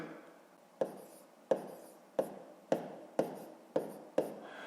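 Numbers being written out by hand during a fifth-grade maths multiplication exercise: seven crisp, evenly spaced strokes or taps, close and dry, each fading quickly, with no talk.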